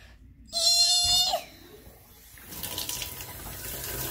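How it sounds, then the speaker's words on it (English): Water running from a bath tap as a tub is filled for a llama's bath; a loud, steady gush starts abruptly, cuts off after about a second, then a softer hiss of flow builds and continues. "First, we gotta turn tap here."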